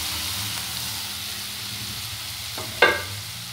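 A hot tempering of garlic, dry red chilies, lentils, mustard seeds and asafoetida in oil, with a steady soft sizzle ending in a sharp metallic clink against a vessel.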